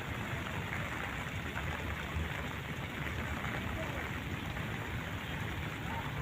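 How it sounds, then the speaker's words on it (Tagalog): Steady afternoon rain at Burnham Park in Baguio City, a dense even hiss of drops falling on surfaces, close and continuous with no pauses throughout. "Yan, maulan na pagkahapon."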